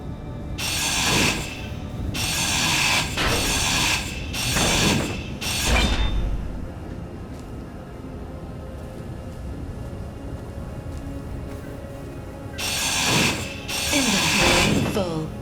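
A handheld grinder in the video game Space Engineers gives repeated harsh metallic grinding bursts of a second or so each, then a long quieter stretch before two more bursts, loud and close.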